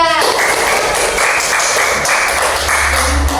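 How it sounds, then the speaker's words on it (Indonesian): Schoolchildren in a classroom clap for group 3 during a micro-teaching lesson, a loud, close burst of rapid hand claps running throughout. "Beri tepuk tangan untuk kelompok 3."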